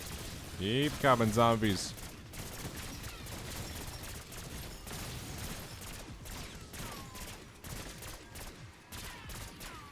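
Rapid gunfire from Black Ops 6 Zombies weapons mowing down zombies, with steady bursts of shots running through the whole stretch under a player's voice and game noise.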